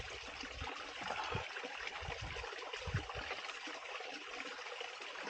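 Water trickles and gurgles continuously nearby, a soft steady flow with low bubbling pulses as a water bottle fills from a mountain stream.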